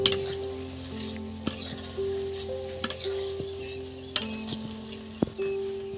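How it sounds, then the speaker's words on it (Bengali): Aloo pakoda potato fritters double fry in hot oil with a steady close sizzle, punctuated by occasional sharp clinks and taps of a metal utensil against the pan. "চলছে ডবল ফ্রাই আলু পকোড়া"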